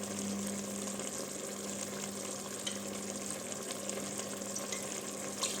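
Whiskey poured into a pan of sizzling pork for Carne de Porco à Alentejana, a quiet continuous frying hiss with faint bubbling and no voices.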